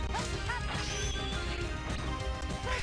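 A busy Mega Man X4 Frost Walrus stage soundscape with a sharp crunching crash of an enemy freezing into an ice block, over steady background music and effects.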